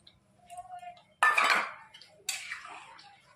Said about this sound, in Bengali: এবার আমি 1 বাটি জল দিয়ে দিলাম